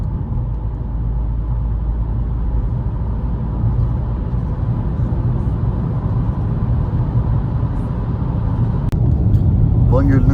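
A 2023-style VW Polo 1.0 TSI 95 hp with DSG gearbox drives along a road, heard as a loud, steady low engine and road rumble from inside the cabin, with a brief knock near the end.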